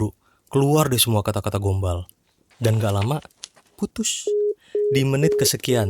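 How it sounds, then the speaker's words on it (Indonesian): Two short beeps sound on a mobile phone call, warning that prepaid credit is about to run out. They come between stretches of fast talking. "Mati-matian dengerin nada bip peringatan pulsa mau habis."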